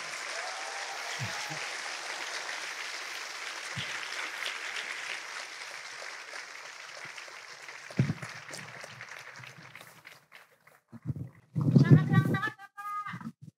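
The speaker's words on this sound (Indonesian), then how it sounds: "Tepuk tangan untuk Pak SBY." Studio audience applause for former Indonesian president Susilo Bambang Yudhoyono at a talk show, a steady mid-level clapping that fades out, with a brief burst of voices near the end.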